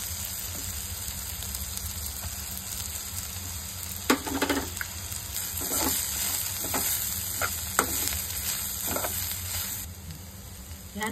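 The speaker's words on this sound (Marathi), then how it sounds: "हे कांदे आता लाल होईपर्यंत आपल्याला आता भाजायचे आहेत।" Sliced onions and dried coconut frying in a pan while being stirred, a continuous close sizzle broken by irregular scraping knocks of the spatula against the pan, with no talking.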